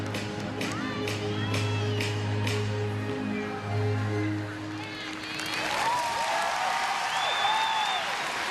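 A college gymnastics crowd at a Kentucky versus Alabama women's meet claps and cheers over tonal floor-routine music, then the noise swells with whistles and whoops as the music ends.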